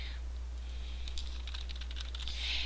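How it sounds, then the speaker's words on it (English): Steady rapid typing on a computer keyboard, close and fairly quiet over a constant low hum, with bursts of clicking keystrokes and no talk. "I'll go ahead and type that too."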